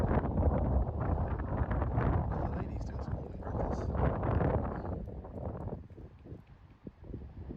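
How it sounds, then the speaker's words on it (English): Strong wind buffets the microphone at the Basin Reserve cricket ground in Wellington, a constant low roaring rumble with gusts that swell and ease, loud and close throughout, slightly calmer near the end. "As you can probably hear, it's pretty windy."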